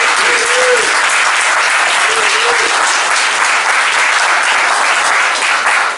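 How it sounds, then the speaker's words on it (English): An audience in Miami applauds university students at the close of an event: dense, loud, steady clapping that fills the whole stretch without pause, with no talking over it. "Let's have a big round of applause."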